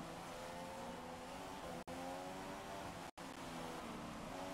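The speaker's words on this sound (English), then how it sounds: "Now I'm going to be racing with cars" Formula 1 cars in the F1 2015 video game race at the Spanish Grand Prix, their engines holding a steady, high, whining drone with two sudden brief dropouts and no talk.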